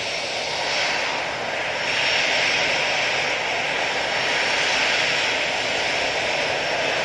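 A Lufthansa Airbus A319 jet departs Manchester Airport bound for Frankfurt, its engines roaring steadily and loudly for the whole stretch with a broad, sustained rush and no talk.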